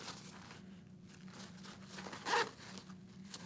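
A locking zipper on an Alpinestars T-GP Plus R V3 Air motorcycle jacket gives one short, close, crisp zip burst, alone against quiet room background.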